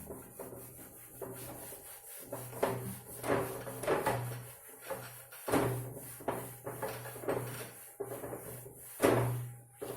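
A teacher wipes a classroom board clean mid-lesson, producing repeated rubbing and scrubbing strokes in uneven bursts, fairly close, with no talking over them.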